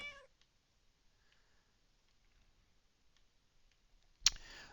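A cat meows once in a video game, a short sharp call near the end after a few faint clicks at the start, with near silence otherwise.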